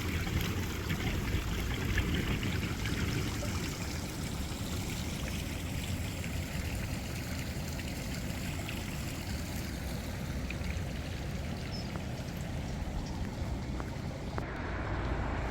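Water flows steadily along a small stream in a town street, a soft, continuous trickle and rush with light wind noise, fairly quiet and without talk.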